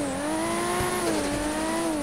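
Twin-turbo Toyota Supra engine in the GTA 5 video game revving steadily, a loud sustained engine tone rising and falling slightly for the whole stretch, close and alone with no talk.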